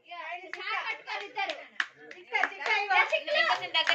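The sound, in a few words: hand clapping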